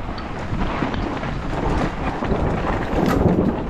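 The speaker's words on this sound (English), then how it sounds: "How's that thunder?" Thunder rumbles through a mountain storm near a mountain-bike World Cup track in Andorra, a heavy low roar blended with wind buffeting the microphone and steady rain, continuous and loud throughout.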